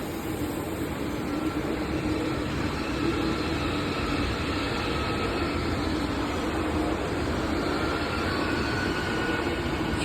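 A long triple-unit train rumbles past close by at Berlin-Rummelsburg, with loud constant wheel roar and light clatter filling the whole stretch and no voices.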